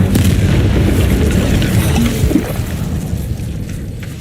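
Incendio fire spell cast in the Hogwarts Legacy video game, a loud rumbling boom-like blast that swells and then slowly fades, with no talking over it.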